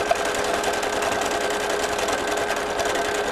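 A sewing machine stitches embroidery on fabric, its rapid needle chatter running continuously and steadily at close range for a few seconds, with no voices.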